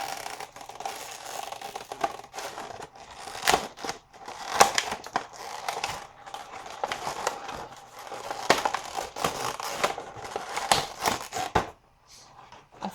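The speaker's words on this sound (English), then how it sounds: "I find that despite it being noisy, if you kind of gently work your way around those plastic toppers" Plastic packaging toppers being worked loose from an SH Figuarts Sailor Saturn action figure box, giving a run of crinkling, crunching and scraping plastic noises in bursts, moderately close with no talking.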